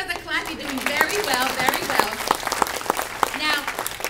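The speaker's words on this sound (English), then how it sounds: "Give yourselves a clap." An audience applauds at a library association keynote, a sustained patter of clapping hands running under a speaker's amplified voice throughout.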